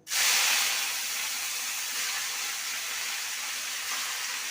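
Radish greens hit hot oil tempered with nigella seeds and a dried chilli in a wok, setting off a sudden loud, broad hissing sizzle that holds steady and close with no talk.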